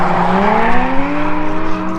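Drift cars on a hot race track scream past, engine notes sweeping upward in pitch as they accelerate, loud and sustained with overlapping tones across the short stretch.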